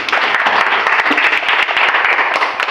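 A classroom of students claps hands together, a loud, close burst of many individual claps with some distinct sharp hits, lasting just under three seconds.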